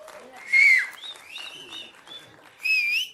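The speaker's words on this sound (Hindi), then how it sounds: "मनीषा जी के लिए जोरदार एक सीटी" Audience whistling at a film trailer launch event, two loud shrill whistles with softer whistles and crowd noise between them, fairly close.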